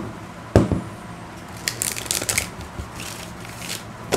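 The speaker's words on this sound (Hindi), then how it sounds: "एक और शफल कर लेते हैं।" A deck of tarot cards is shuffled close by, with a sharp riffle burst followed by softer, quick papery flicks and crinkles, quiet overall and without talking.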